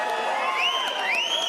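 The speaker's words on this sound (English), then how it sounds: "Thank you so much for the cheering." A large crowd at a Rainbow Six Siege reveal panel cheers and whoops loudly and continuously, with high rising shouts and screams blending into a dense wall of sound.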